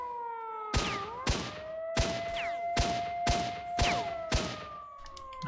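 Sniper rifle shots in S.T.A.L.K.E.R. Shadow of Chernobyl crack out as seven sharp, evenly spaced reports over a steady whining tone, loud and close.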